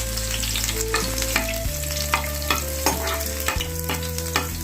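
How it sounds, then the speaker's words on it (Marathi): Cumin seeds and chillies sizzle loudly in a pan of oil just after peanuts were fried in it, a steady close crackle broken by repeated scraping stirs and a low steady hum underneath. "इथे टाकायचे थोडंसं जिरा आणि त्यानंतर मिरची छान असं परतून घेऊया"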